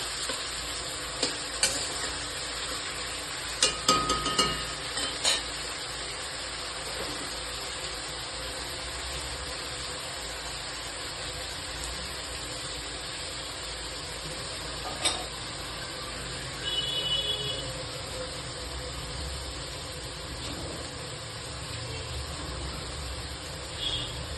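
Chicken being sautéed with onion paste for chilli chicken hisses in a pan as a steady, close sizzle, with occasional louder spatters and brief stirring clatters breaking the continuous frying noise.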